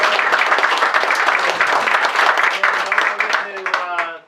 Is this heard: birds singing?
no